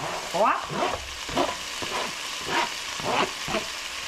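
Onions drop into a hot pan for a Philly cheesesteak crescent roll filling, bursting into loud sizzling with repeated scraping stirs every half second or so, close by and without speech.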